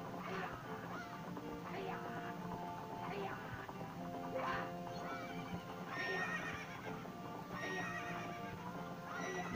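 Horses in Zelda: Majora's Mask, whinnying and neighing repeatedly over steady clip-clop hooves, with game music and effects running underneath.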